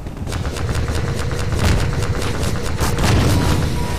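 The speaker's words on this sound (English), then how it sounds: "Shotgun's not good." Rapid gunfire in the video game Half-Life 2, a loud, continuous fast-paced stream of repeated shots over booming background noise, with no voices.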